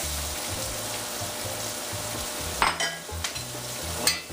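Two onions go into hot oil and fond in a pan while making beef stroganoff, sizzling steadily and close up, with a few sharper crackles and stirring clatters mixed into the frying.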